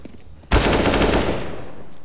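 Counter-Strike gunfire on the map de_Anubis as counter-terrorists shoot: a sudden, loud, sustained burst of rapid automatic fire that runs for about a second, then trails off into a lingering rumble.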